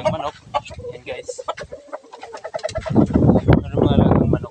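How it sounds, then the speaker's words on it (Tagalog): Pet chickens on a farm in the Philippine countryside cluck and call in short, irregular bursts close by, mixed with other bird sounds, while a person talks over them. "So, at mayroon din mga alagang manok."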